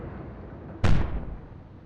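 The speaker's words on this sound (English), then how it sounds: "It's been hit by a torpedo" Torpedo striking a warship in Atlantic Fleet, a naval combat game: one sudden, loud, deep explosion that bursts out over a low background hum and then decays in a rumbling tail.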